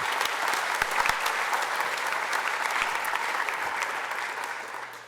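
Steady, full applause from a crowd at a 2017 Career and Technical Education student awards ceremony honoring teachers and students, with a few low thumps, tapering slightly at the end.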